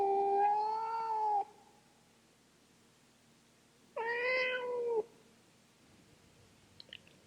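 A starved, mistreated cat lets out two drawn-out, wavering meows a few seconds apart, close and clear against near silence.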